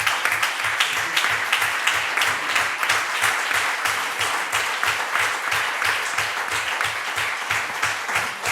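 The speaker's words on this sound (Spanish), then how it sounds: "Y un aplauso para Rodrigo." An audience claps in unison for Rodrigo at an education policy event, a loud, regular rhythmic beat of hands repeating roughly twice per second over a wash of scattered clapping.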